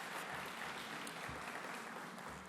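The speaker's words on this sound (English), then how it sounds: "Please give them a big round of applause." Faint, distant applause from an audience at a government event hosted at a Y, an even wash of many hands clapping with no break.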